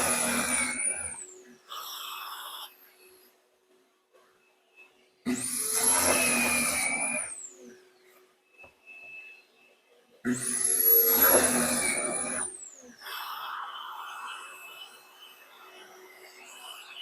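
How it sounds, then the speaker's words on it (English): A shop vacuum whines up and roars during dust extraction on a Kreg Foreman pocket hole machine in two long bursts, interspersed with quieter stretches, rising whir at each start and winding down afterward. "I'll test out the vacuum and see how that works."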